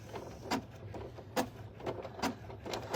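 An embroidery machine stitching the final seam of an in-the-hoop e-reader sleeve gives a quiet mechanical hum with evenly spaced thumps of the needle, about two per second, close and steady with no speech.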